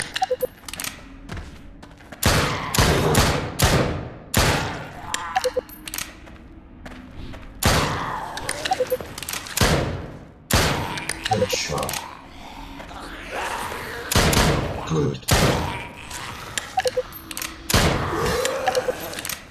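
Gunfire in a shooter video game: sharp, loud shots crack out in irregular bursts and single reports close up, interleaved with characters talking in the game.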